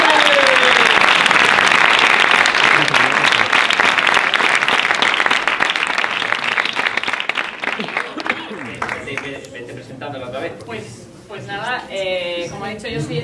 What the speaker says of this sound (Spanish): Así que vamos a dar un fuerte aplauso a Elizabeth Pratt.